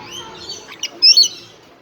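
Birds chirp up close during a feeding at Dallas Zoo, a few bright high tweets with a louder pair of calls near the end and no talking.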